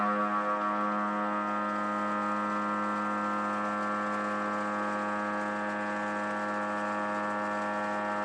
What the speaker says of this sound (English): Next, we're going to be doing a heavier cut on the periphery of this steel block with the Milfor 12KT.